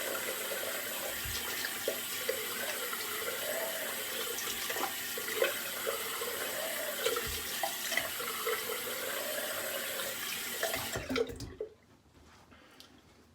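A bathroom tap runs cold water into a sink for a rinse during a wet shave, a steady close splashing rush with occasional splatters and knocks, cut off abruptly near the end, leaving quiet room tone.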